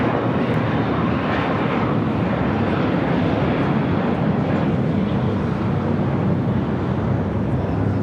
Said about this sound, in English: clear for takeoff 25 right, American 993